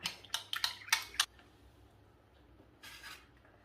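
A spoon scrapes and clinks in a bowl, mixing asafoetida powder and Kashmiri chili powder for a mango pickle. About six quick taps come in the first second, then near-quiet, then a brief softer scrape.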